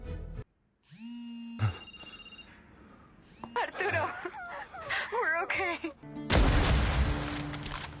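A telephone rings in a tense cartel-raid scene, its electronic ring sounding in bursts near the start amid shouting voices, followed by a loud burst of gunfire-like noise at the end.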